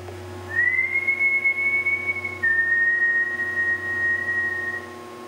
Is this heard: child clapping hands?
no